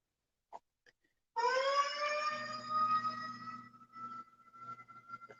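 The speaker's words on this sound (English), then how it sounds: "After that siren went off." A siren suddenly starts wailing after a couple of small clicks, a loud, steady, harmonic tone that holds and slowly wavers with a low hum beneath, sounding alone without any talk.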